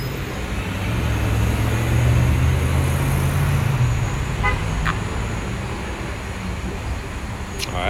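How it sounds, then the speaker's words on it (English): On a Brooklyn city street, a bus approaches with a low engine rumble that swells and then eases amid traffic noise, while short toots and a few sharp tonal beeps sound later. "Oh, that's a bus coming."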